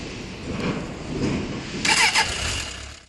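A Suzuki Bandit 600 (GSF 600) with an oil-cooled four-cylinder engine and carburettors cranks and catches, then settles into a low, close rumbling idle with a brief rise partway through.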